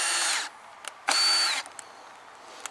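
A power screwdriver drives a screw into the lower part of a wooden board fixed into clay ground as part of anchoring OSB board, two loud whirring bursts with a rising whine, separated by short pauses and small clicks.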